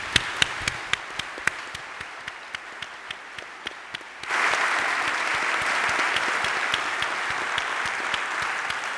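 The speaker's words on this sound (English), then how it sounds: "Let's give another round of applause to our two distinguished guests." Audience applause after a talk on peace, with two guests on stage: a few sharp, isolated claps at first, then full applause swells and carries on steadily, loud and close, with no talking.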